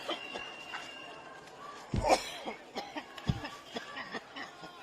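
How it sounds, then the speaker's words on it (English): A couple of sharp coughs burst out amid a noisy outdoor protest crowd after pepper spray, with scattered voices and movement around them. "You can hear them coughing right there."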